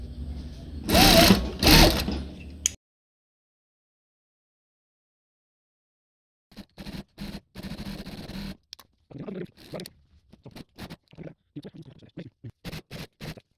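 A sewing machine stitching with a presser foot runs in two short loud bursts, then after a silence gives a string of quick, quieter stop-start runs of stitching, close up.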